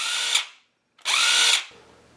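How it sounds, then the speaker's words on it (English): Cordless DeWalt impact wrench whirring at high speed alone, cutting off as the trigger is released and spinning down to silence, then running again briefly before stopping with a short mechanical rattle from the electric brake. "I pulled out a cordless DeWalt and watch what happens when I release its trigger"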